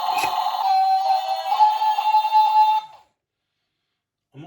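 Electronic sound effect from a 1/24 scale RC toy excavator meant to imitate a pneumatic arm, a buzzy, whirring tone with wavering pitch lasting about three seconds, then silence and a faint sound at the end.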